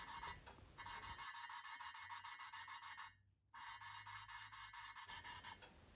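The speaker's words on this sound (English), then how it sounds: "use my suction cap to rotate it backwards and forwards by gently applying some downward force to grind the valve in" An engine valve being lapped into its seat with grinding paste, turned back and forth by a suction-cup tool during a Norton Nemesis V8 rebuild: a steady, rhythmic gritty rasping close up, pausing briefly midway before resuming.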